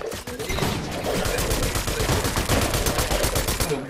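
Gunfire in a Fortnite ranked squads match, with shotgun blasts in a dense, rapid volley of loud shots repeating steadily for several seconds without a break.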